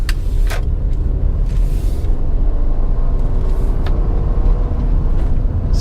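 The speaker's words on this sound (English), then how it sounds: "I just felt it shift into second gear, so we know we've got 1 and 2." 2001 Honda Accord EX V6 accelerating and shifting through its automatic gears, a steady loud in-cabin engine drone with road rumble and a few faint clicks, no talk.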